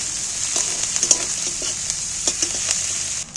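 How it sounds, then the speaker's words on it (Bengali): Chopped onions fry in hot oil with a steady, bright sizzle, while a spoon scrapes and stirs through them in irregular taps, close by and continuous with no talk. "তেলের মধ্যে পেঁয়াজগুলোকে নাড়াচাড়া করে একটু ভেজে নিচ্ছি"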